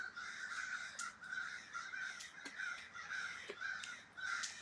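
Several crows caw repeatedly in harsh bursts, overlapping at moderate distance, with no voices present.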